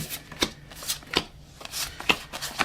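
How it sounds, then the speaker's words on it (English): A deck of cards is shuffled up close, with several quick riffles and soft snapping bursts at irregular intervals in a quiet room. "I'm the one constantly shuffling and dealing the cards"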